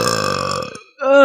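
A loud, close burp with a rough, croaky start that ends in a higher, tonal rise, heard alone.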